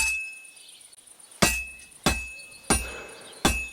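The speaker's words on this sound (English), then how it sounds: "Now take the hammer and try hitting it a few times." A hammer strikes a sword on an anvil in Kingdom Come: Deliverance II, four sharp ringing metallic clangs spaced roughly half a second apart, each decaying with a bright shimmer.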